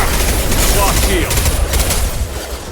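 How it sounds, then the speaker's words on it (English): An impact shot weapon fires in a Mass Effect 2 battle on Omega, a loud dense blast of gunfire and booming combat noise filling the moment before easing slightly. "Firing an impact shot."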